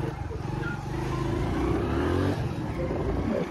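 A motor vehicle engine revs as it pulls away on a street in Belgaum, a rising, fairly close engine drone building over a few seconds before easing slightly.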